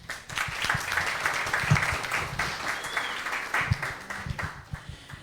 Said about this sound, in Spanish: le damos por favor un aplauso a la ponente el día de hoy